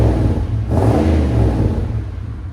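A Chevy 1500 pickup with a 5.7L (350) V8 and MagnaFlow exhaust revs up from idle, a loud, close, sustained low exhaust rumble rising in a single surge and holding.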